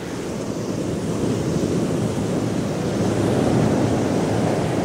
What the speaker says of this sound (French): En bas, des vagues hautes comme des maisons se brisent sur le récif.